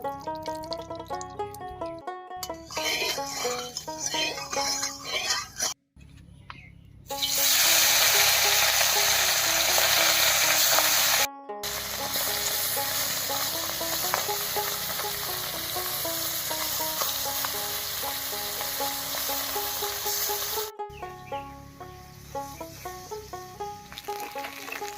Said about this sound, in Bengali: এবার হলুদ লবণ মাখিয়ে মাছটা ভেজে নেব